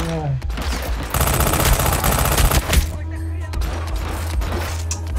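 Rapid automatic gunfire in the stealth-action game Hitman Absolution rattles loud and close in a sustained burst of about two seconds, surrounded by single shots, with a voice speaking over parts of it.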